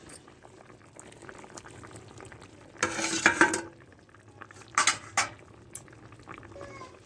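A thin curry with soybean nuggets, green banana and taro boils after ground spice paste goes in, a soft steady bubbling with a couple of louder bursts of stirring or sputtering.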